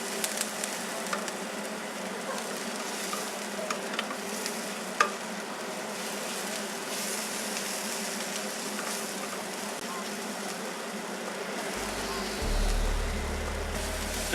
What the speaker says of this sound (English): the chilies and the garlic. I'm going to cook that for a further minute.